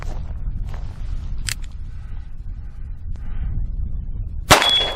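A Rock Island .38 Special snub-nose revolver fired once at a shaving cream can outdoors, a single sharp crack near the end after a few seconds of steady wind-like background noise.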